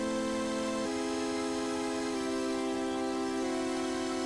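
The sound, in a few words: Serum synth preset with phaser, straight notes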